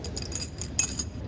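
A tool kit bag full of metal sockets is shaken, giving a quick burst of metallic jangling and clinking in several short pulses, close and fairly loud.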